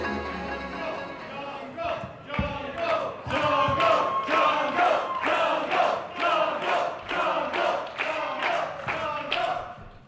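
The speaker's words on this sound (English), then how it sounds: "Crowd showing their enthusiasm for Jungle Kyona." A professional wrestling crowd cheers in rhythmic unison, a run of regular loud chant-like pulses with clapping that builds after a brief quieter start.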